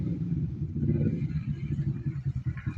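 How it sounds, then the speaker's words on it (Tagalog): A motor tricycle's engine rumbles steadily up close, a low continuous throb with a slightly uneven pulse and no talk over it. "Oh, tricycle, boss!"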